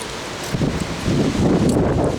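Gusty wind buffeting outdoors, a rough low rush that swells louder partway through, with no voices.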